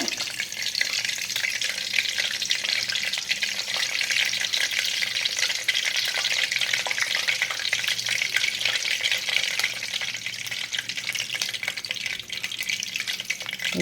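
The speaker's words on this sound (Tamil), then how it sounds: "இப்போ எண்ணெய் காஞ்சிருச்சான்னு பார்க்குறதுக்கு கருவேப்பிலை போட்டிருக்கோம் எண்ணெய் காஞ்சிருச்சு" Curry leaves fry in a generous amount of hot oil while anchovy pickle is being made, giving a continuous, dense crackling sizzle that stays steady and close throughout, with no voices.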